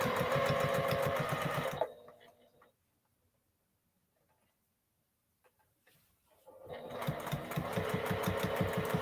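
A sewing machine stitches the curved neckline of a baby cape in two loud, rapid bursts of rhythmic whirring and clatter, separated by several seconds of near silence.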